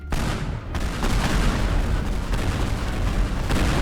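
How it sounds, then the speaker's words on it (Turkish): A massive explosion in the video game Teardown erupts into a sustained, roaring rumble of blasts and crumbling debris, loud and dense for several seconds without speech. "Durmadı da güzel patlama oldu arkadaşlar."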